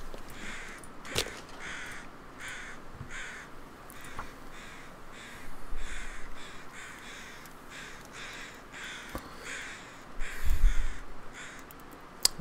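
Several crows caw repeatedly in The Long Dark, harsh calls spaced in uneven bursts over a faint windy background, moderately near.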